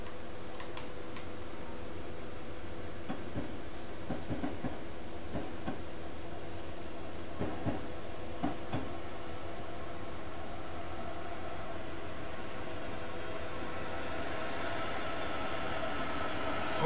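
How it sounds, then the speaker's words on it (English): A Metro North train with two engines pulls in within a Train Simulator game, a steady rumbling hum with regular ticking clicks of wheels over rail joints, moderately loud and continuous, no voices. "there's a train with two engines pulling in."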